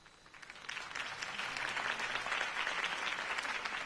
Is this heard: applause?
yes